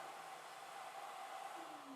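A vacuum cleaner hums steadily in a workshop, a constant broadband whir with a faint tonal whine, moderately quiet and unbroken for the whole two seconds, with no voices.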